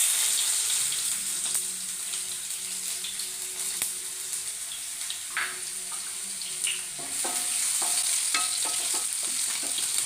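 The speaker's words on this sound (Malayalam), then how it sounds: "നമുക്ക് അതിനകത്തോട്ട് ഈ കൊച്ചുള്ളി ചെറുതായിട്ട് നമുക്കിടാം" Chopped shallots frying in oil with spluttering mustard seeds for a Kerala ash gourd and lentil curry, a loud steady hiss with scattered pops and a few stirring clinks toward the end.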